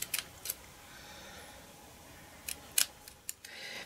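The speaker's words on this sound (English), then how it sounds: "So I'm going to cut that in the middle and then cut in from either side." Scissors snip through card in a handful of quick, crisp cuts at close range, a few spaced strokes over a quiet room.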